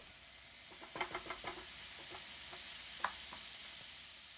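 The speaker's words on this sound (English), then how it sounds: "into all of this pan of nice goodness, we're going to add some butter. Allow the butter to melt." Butter melts in a hot pan with colossal shrimp, giving a steady bright sizzle and hiss with a few soft clicks and scrapes of stirring, close and moderately quiet.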